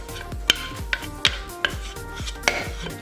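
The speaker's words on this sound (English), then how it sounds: "Now I like to shred my butter like this." Sticks of butter shredded by hand for egg nog scones, a series of sharp scraping strokes at an irregular rhythm, close and distinct with no talking.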